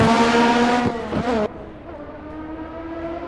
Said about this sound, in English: Was the Formula 1 V6 from 1986, based on Nigel Mansell's Williams